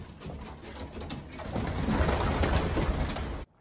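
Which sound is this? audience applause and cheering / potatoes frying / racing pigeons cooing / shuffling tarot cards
racing pigeons cooing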